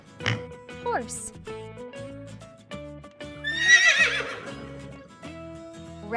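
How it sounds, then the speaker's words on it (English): A horse gives a single shrill whinny that rises and trails off, amid light clip-clop hoofbeats and a steady background tone. "Horse."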